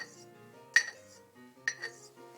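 A Japanese straight razor's edge is dulled against glass, making two sharp, faint clinks about a second apart over a quiet background.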